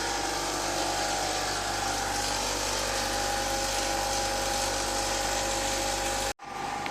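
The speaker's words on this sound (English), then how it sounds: "We are now pumping, testing the vacuum." A vacuum pump on a wax impregnation setup for superconducting magnets runs with a steady, loud mechanical whine and hum, cutting off abruptly near the end before resuming.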